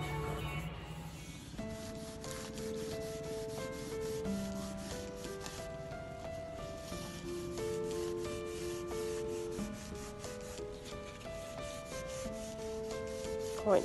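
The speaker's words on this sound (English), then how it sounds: "I'm oiling all the trims." A rag rubs oil onto wooden trim inside a narrowboat under construction, making a steady, soft rubbing hiss that lasts throughout, with music playing underneath.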